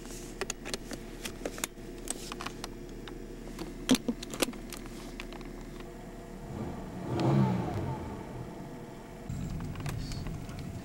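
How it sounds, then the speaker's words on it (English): An Oldsmobile Alero car engine on a joyride revs up in a brief swell in the middle, amid scattered clicks and rattles inside the car. "We're going on a joyride!"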